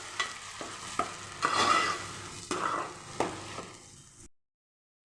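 Curry with green chillies and curry leaves fries in a pan while a spoon stirs it. Sharp metallic scrapes and taps fall at irregular intervals over a soft sizzle, then the sound stops abruptly.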